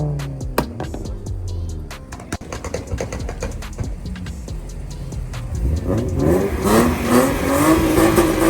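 A BMW E34 drift car with an M50 or M52 straight-six revs hard at an airport drift event, engine notes rising and falling in bursts with sharp transients, growing louder and busier toward the end.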